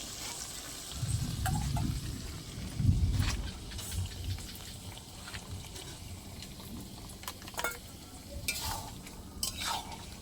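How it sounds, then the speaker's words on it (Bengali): Mustard paste being stirred into fish-head and Malabar spinach (pui shak) greens simmering in a pan, with soft scraping and bubbling, a louder stirring burst early on, then lighter intermittent clinks of the spoon against the pan. "ভালো করে মিশিয়ে আরো 2 মিনিট মতন ফুটিয়ে নেব"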